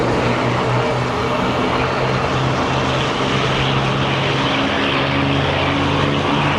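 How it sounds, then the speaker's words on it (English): A propeller plane drones steadily before takeoff at a Fleet Week air show, a constant loud engine hum with pulsing tonal bands heard from a distance over road noise. "I hear one of the planes getting ready to take off."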